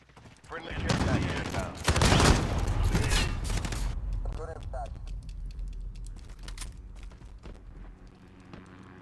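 AUG submachine gun fire in the shooter game Modern Warfare: a dense, loud burst of rapid shots, then a fading tail with scattered lighter clicks and clatter.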